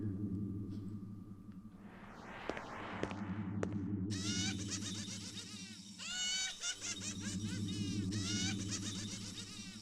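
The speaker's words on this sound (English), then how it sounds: "it certainly sounds like one of the laughing toys at J.F. Sebastian's place" Mechanical laughing toy at J.F. Sebastian's place in the PS4 Blade Runner game: warbling, bleating electronic laughter in choppy bursts over a constant low machine hum, swelling louder after a brief pause.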